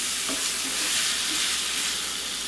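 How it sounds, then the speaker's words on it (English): Seasoned ground turkey frying in a pan, a loud, continuous close-up hiss and crackle of sizzling meat with a few soft stirring taps, and no one talking. "Then I'm going to cook this until the meat is done."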